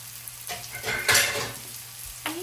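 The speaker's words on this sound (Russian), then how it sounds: "Грибочки наши уже поджарились, мы их теперь солим уже в самом конце." Mushrooms frying in a pan give a soft, close sizzle that swells briefly in the middle, along with a few light clinks of a utensil against the pan, and no one speaks.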